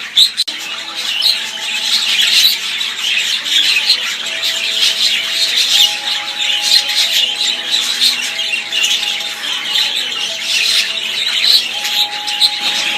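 A room full of budgies keeps up a dense, continuous chorus of squawks, chirps and chatter, loud and close throughout with no talk.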